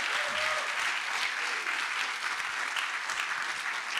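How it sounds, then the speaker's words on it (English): Audience applause fills a demo day launch event, a steady loud wash of clapping from a crowd that runs unbroken for several seconds. "Yeah, you can clap."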